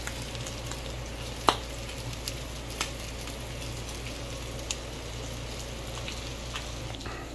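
Ground turkey and mushrooms frying in olive oil, a constant close sizzle with scattered sharp pops and crackles breaking through at irregular intervals.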